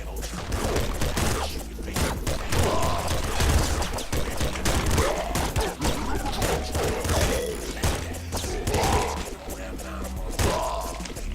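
Rapid-fire weapon shots in the video game Nuclear Throne, a dense, continuous stream of punchy synthetic blasts and thuds with game effects layered over them.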